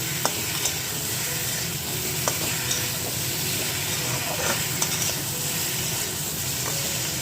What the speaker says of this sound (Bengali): দুই তিনটে চিনির দানা দিলাম এখন এটা ভালো করে আগে কষিয়ে নেব